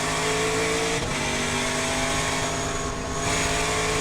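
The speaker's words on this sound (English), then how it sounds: "Ken Sutherland, Kahlberg Racing, Wyatt Fire Chevrolet Camaro, and Bobby Hodges in that NATC Ford Mustang." Trans Am race cars, a Chevrolet Camaro and a Ford Mustang, roar past at Thunderhill with loud sustained engine drone and a brief pitch shift as one passes by close.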